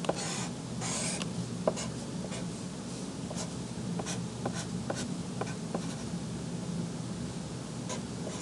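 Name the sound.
pencil drawing on paper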